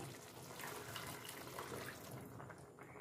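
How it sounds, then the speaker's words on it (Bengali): Water pouring steadily into a cooking pot to measure out for rice in a home kitchen, a continuous soft splashing rush that fades slightly toward the end, with no voices. "এক কাপ চালের জন্য পনে দু কাপ আমি জল দিলাম"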